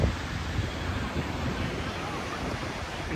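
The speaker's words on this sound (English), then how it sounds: "That wind is yanking me high." Strong wind buffeting a microphone high above a beach while parasailing, a steady, loud, full roar with no breaks, and a faint voice buried somewhere in the rush.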